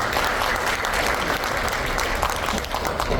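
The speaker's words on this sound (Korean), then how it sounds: "박수 한번 부탁드리겠습니다" Sustained audience applause fills a talk-concert hall at an event marking the anniversary of May 16 and honoring President Park Chung-hee, a dense, steady wash of many hands clapping without pause.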